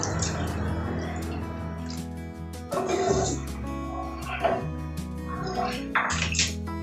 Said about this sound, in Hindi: इसमें दूध डालेंगे हम